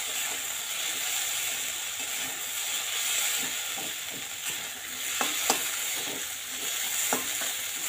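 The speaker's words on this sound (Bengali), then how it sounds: "ঘিটা একটু সাবুদানার সাথে ভালো করে মিশিয়ে না" Ghee being stirred into vegetarian sabudana khichuri in a pan, a soft steady hiss with light scraping taps of the spoon toward the end, close and quiet, no talking.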